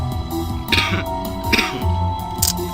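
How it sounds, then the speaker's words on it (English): Several short, harsh coughs come in separate bursts over a few seconds, close by, against a quiet background hum. "Sorry about I'm coughing."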